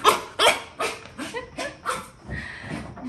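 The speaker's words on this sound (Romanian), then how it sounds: "Doamne, cățel agitat ce ești." An agitated dog barks at arriving visitors in a quick series of about seven loud, close barks with short gaps, ending in softer whining yips.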